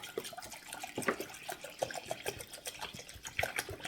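Water from a full, heavy container is poured into a pot while making onion tea, giving a steady close splashing and trickling that rises and falls over a few seconds.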